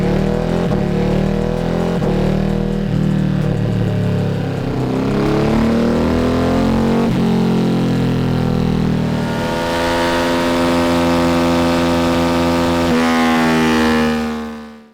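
Stock Ducati Hypermotard 950 motorcycle on a dyno, engine pulling hard and loud through a sustained full-throttle run, pitch climbing steadily before cutting off at the end.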